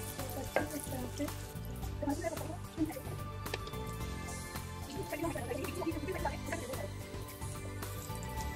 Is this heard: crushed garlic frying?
yes